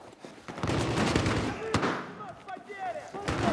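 Bursts of video game gunfire from a Battlefield 4 multiplayer match, several sharp shots and short volleys at mid distance, mixed under excited player chatter.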